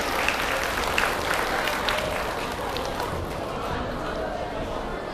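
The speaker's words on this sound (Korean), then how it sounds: "여러분들의 뜨거운 박수와 같이 시작하도록 하겠습니다." Enthusiastic applause from a student audience at a magician's talk, a thick, sustained wash of clapping with a little crowd chatter mixed in.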